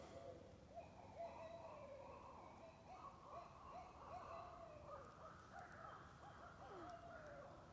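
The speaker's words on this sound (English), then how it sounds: "Owls are going ape shit over there." Several owls hoot repeatedly in overlapping calls, distant and faint against a quiet nighttime background around 9:30 pm near an old mill.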